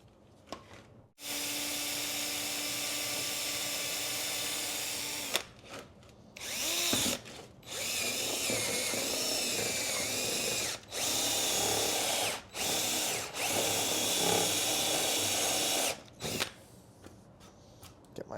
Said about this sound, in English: I'm just gonna go ahead and drill those out